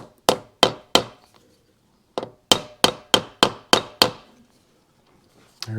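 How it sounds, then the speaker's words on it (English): A plastic hammer taps a vent into place on a Yamaha AT-1 MX engine: three sharp, close taps, a pause, then a quicker run of six even strikes, each ringing briefly. "Take a plastic hammer."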